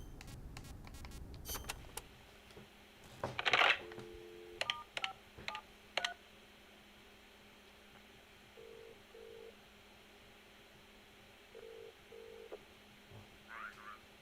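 Telephone keypad tones beep in a short burst of dialing during a wiretapped call in Metal Gear Solid: Peace Walker, with clicks and handling noise before and a few faint tone pairs afterward over a steady hum.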